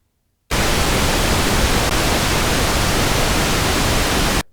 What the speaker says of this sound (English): We also have pink noise.